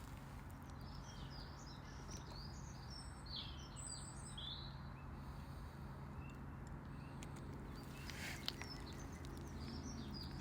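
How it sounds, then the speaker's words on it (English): Magpie chatter and calls ring out intermittently against a loud, constant outdoor rumble, the birdsong thin and somewhat distant. "She does seem to have some magpie business now."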